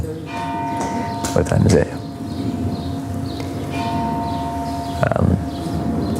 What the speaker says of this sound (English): They're ringing the bell for us